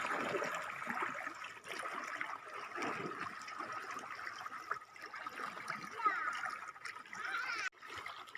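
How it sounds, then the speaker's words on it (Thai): Fast-flowing stream water rushes steadily at moderate volume, a continuous watery hiss with no clear voices over it. "น้ำไหลแรงอยู่นะคะ"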